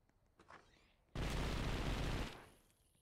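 A micro SMG fires in a short burst in the game Anomic, a loud, dense rattle lasting about a second and ending in a brief fading tail, with a few quieter sounds just before it.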